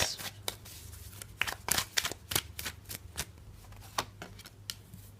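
Tarot cards are riffled and drawn by hand nearby, producing a quick run of crisp flicks and papery snaps of uneven rhythm against a faint low hum, with no talking.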